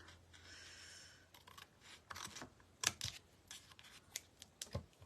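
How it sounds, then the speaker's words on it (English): Scissors trimming excess material off a dollar store cookbook stand during a DIY makeover, a faint steady rasp followed by a few sharp snips and clicks spread over several seconds. "need to trim a little bit of this off"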